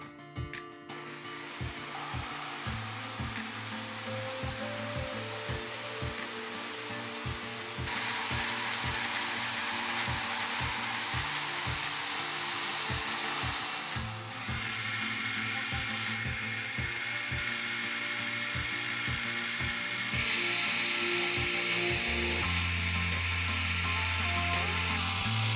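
Power tools whir and grind while bolster material is cut for a liner lock knife, a loud, shifting machine drone with rapid rattling pulses and changes in pitch and intensity, and no talk.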